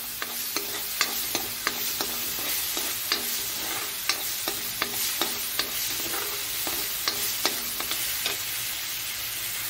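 Ginger, garlic and mustard paste frying in a pan, a soft continuous sizzle with regular clicks of a spatula stirring, close and fairly quiet, with no talk.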